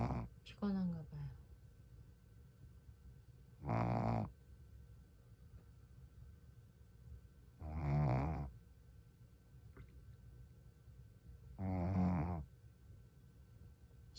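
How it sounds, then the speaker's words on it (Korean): A sleeping Shih Tzu snores in slow, regular cycles, each deep rasping breath arriving about every four seconds, close and quiet against a faint steady background hum. "강아지가 코를 골고 자고 있어요."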